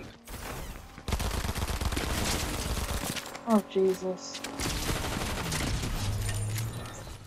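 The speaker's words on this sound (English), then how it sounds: "Oh, one of them's on the roof shooting me." Rapid bursts of gunfire from an enemy shooting down from a rooftop in Fortnite, loud and sustained through most of the moment, with a brief exclamation from a player over the shots.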